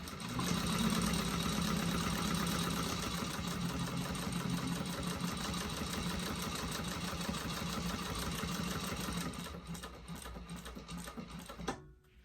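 Sewing machine basting the sides of a bag together with a 1/8-inch seam allowance, a steady fast mechanical whir and needle patter running close and continuous for about ten seconds before slowing and stopping with a few final stitches.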